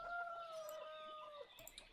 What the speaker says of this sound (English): time to slaughter some chickens